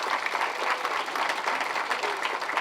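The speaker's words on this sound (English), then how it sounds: "can you guys give a round of applause to our lead instructors?" Applause from an audience at a comedy bootcamp graduation show, a dense, steady patter of clapping hands lasting a few seconds with no talk over it.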